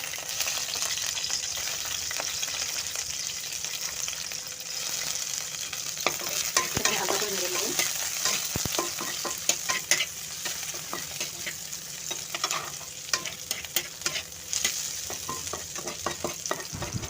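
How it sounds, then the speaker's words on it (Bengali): Onions and chopped garlic fry in a small amount of oil while being stirred, a steady sizzle broken by frequent scraping and clinking of the utensil against the pan, growing busier toward the end. "এখানে আমি রাখা পেঁয়াজগুলো দিয়ে দিচ্ছি রসুন কুচিটা দিয়ে দিচ্ছি"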